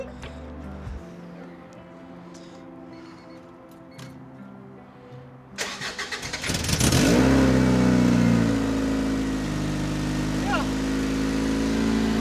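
A car fitted with a Mustang exhaust starts up and revs loudly, then settles into a steady, throaty idle up close, with ticking and a mechanical clunk before the engine catches.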